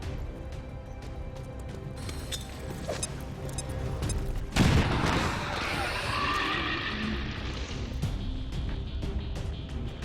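A grenade blast in a tactical squad shooter game booms midway through, with a low thud and a burst of debris and crackling gunfire spreading across the following seconds over steady game ambience.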